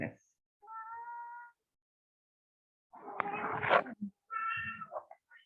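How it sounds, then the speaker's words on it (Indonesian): Pet cat meowing several times indoors, drawn-out tonal cries with pauses between them, one more strained and rough, fairly close to the microphone. "Mohon maaf, suara kucing saya"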